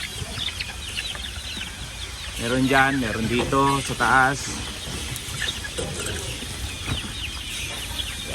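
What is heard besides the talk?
chickens clucking on a farm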